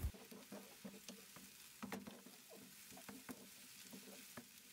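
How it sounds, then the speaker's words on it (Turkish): Onions sauté in oil in a covered pan, giving a faint, close crackle of small irregular pops and ticks over a quiet, low hiss, with no voices. "Sıvı yağ gezdirerek kapağını kapatarak yumuşayana kadar kavuralım."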